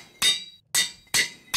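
Hammer breaking blocks in modded Minecraft, four sharp, bright cracking impacts spaced about half a second apart, each quickly fading, with no talk.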